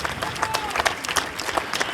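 Scattered applause and crowd noise from protesters at a rally against the war in Ukraine in Luxembourg City, uneven claps mixed with murmuring voices, moderately distant.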